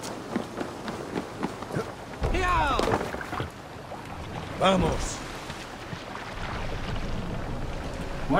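A Viking longship moves through water in Assassin's Creed Valhalla, with splashing waves, creaking wood and wind rushing under steady talk, plus two louder surges of water.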